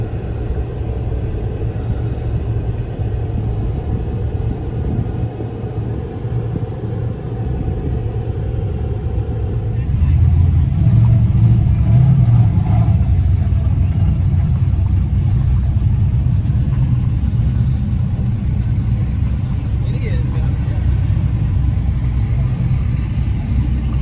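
A stock Ford F150 pickup engine rumbles at a steady drone, then swells louder and heavier partway through as it revs hard during no-prep drag racing, close and continuous without speech.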